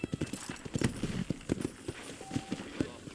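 Horse hooves clip-clop at a steady walking to trotting pace in the Western video game Red Dead Redemption, the regular thuds fairly close and moderately quiet over a low background.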